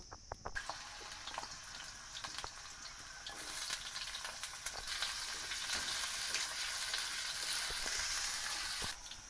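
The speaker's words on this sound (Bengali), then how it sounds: "এবার কড়াইয়ে তেল দিয়ে আলুগুলো ভালো করে ভেজে নেব" Potatoes fry in oil in a wok over a clay stove, a steady close sizzle that grows louder and denser partway through, with occasional crackles and stirring.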